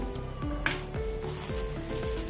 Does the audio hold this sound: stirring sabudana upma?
yes